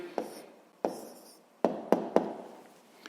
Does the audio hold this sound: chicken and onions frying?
no